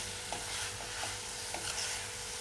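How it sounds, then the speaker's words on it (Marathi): A spoon stirs snake gourd curry with dried fish in a pan, soft scraping strokes and light sizzling at a low level, with a faint steady hum underneath. "सगळं व्यवस्थित असं मिक्स करून घ्यायचं आहे"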